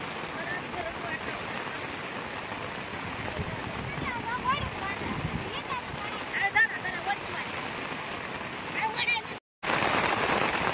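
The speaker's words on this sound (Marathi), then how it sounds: "लय पाऊस आला येड्यागत लय." Heavy rain falling at night makes a steady, dense hiss with no clear gaps. It stays loud throughout and drops out for a moment near the end.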